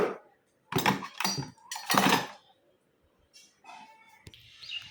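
Dishes and cutlery being gathered and put away in a home kitchen: a few loud clattering bursts at first, then lighter scattered clinks of plates and utensils close by.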